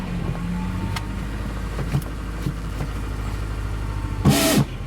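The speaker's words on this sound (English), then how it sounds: "the throwout bearing's making noise" A car engine idles steadily at an auction while a noisy throwout bearing adds a faint whirring tone; there are scattered light clicks and a short burst of rattling louder noise near the end.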